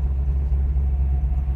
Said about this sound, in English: And listen to that exhaust.